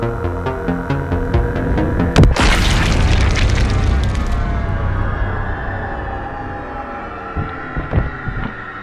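One sharp, loud gunshot booms over a tense musical score, followed by a long, reverberant rumble that slowly fades.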